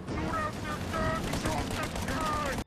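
Gunfire targets a turret in the video game Mafia, a quick close volley of shots packed into under three seconds, with a voice talking over the shooting.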